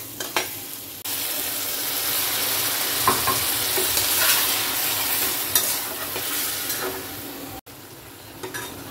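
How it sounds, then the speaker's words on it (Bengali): Prawns fry in hot oil in a pan for a prawn and chicken pulao, giving a steady loud sizzle with occasional stirring scrapes and clicks and no talk. "চিংড়িটা হালকা একটু ভাজা ভাজা হলে আমি উঠিয়ে রেখে দেবো"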